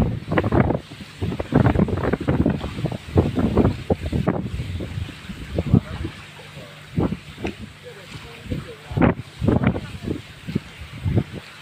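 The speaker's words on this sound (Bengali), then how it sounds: "বাতাস একদিক, ঢেউ একদিক।" Wind gusting across the Jamuna river with waves slapping around a fishing boat, a constant rushing buffet under frequent close talk from several people.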